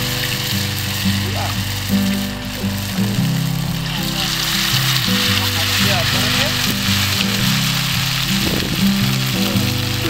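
Banana fritters sizzle and crackle steadily in hot oil on a mountain campsite stove, a continuous close frying hiss with occasional spits, while voices murmur in the background.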